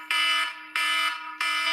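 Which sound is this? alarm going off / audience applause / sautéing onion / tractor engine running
alarm going off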